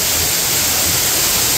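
Steady, loud rush of a waterfall as water pours through rocks at Ermayi Falls near Ujire, a dense unbroken roar with no voices over it.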